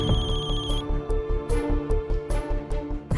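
A mother's phone rings with a repeating electronic ringtone pattern, fairly loud and steady, with a held tone at the start and no voices over it.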